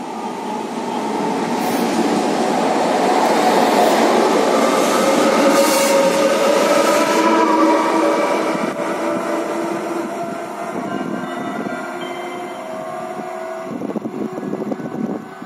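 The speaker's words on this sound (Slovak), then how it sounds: "Osobný vlak zo smeru Trenčín." A passenger train from the direction of Trenčín pulls into Trenčianska Teplá station with a loud rolling rumble and wheel squeal, then slows and grows quieter, ending in a few clanks and creaks.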